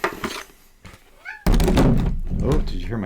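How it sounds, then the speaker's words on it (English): A house cat meows in a rising, tonal call around the first second, moderately close, between a sharp thunk and loud, busy handling noise in a home where a skateboard is being assembled. "Oh, did you hear my cat? The cat's got stuff to say."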